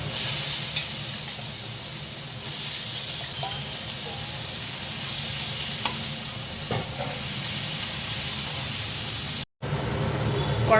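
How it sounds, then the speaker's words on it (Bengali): Potato and eggplant fry in a pan of oil that was just used for frying fish, a loud, close, continuous sizzle and hiss with occasional stirring scrapes, steady for about ten seconds. "হালকা করে ভেজে নেব।"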